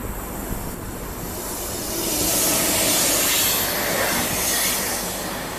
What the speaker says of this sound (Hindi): ये तो कोई प्रीमियम ट्रेन लग रही है जो दिल्ली मुंबई राजधानी है